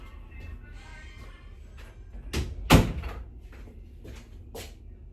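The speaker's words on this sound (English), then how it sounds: "I don't know why I didn't think of closing the door earlier." A door in a home being pulled shut, a couple of soft thuds ending in one sharper closing knock, set against quiet room noise.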